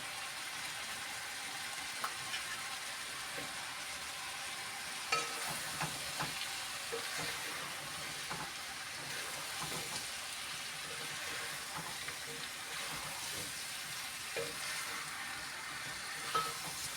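Potatoes frying and sizzling in a pot for a Banat-style potato stew with fresh sausage, a steady close hiss with scattered clicks and pops from stirring, no voices.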